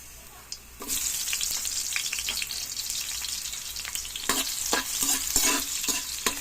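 Garlic and onion are sautéed in a pan for ginataang tahong: a sudden burst of sizzling as they go in, then continuous frying hiss broken by repeated clacks and scrapes of stirring, close and alone.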